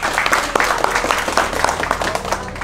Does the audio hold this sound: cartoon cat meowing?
no